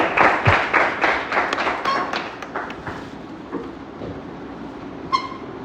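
An audience claps for a man called up to a stage, the applause loud at first and then thinning into scattered claps that fade out, with a few stray knocks.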